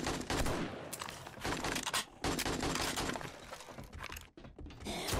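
Rapid AK rifle bursts crackle and rattle through a firefight in the zombie survival game 7 Days to Die, loud and nearly continuous with only brief pauses, with no talk over it.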